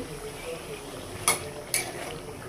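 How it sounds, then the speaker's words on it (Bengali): Chicken and masala for biryani get stirred in a pan: three sharp metallic clinks of a utensil against the pan ring out over a faint, steady background sizzle. "ভালোভাবে কষিয়ে নেব।"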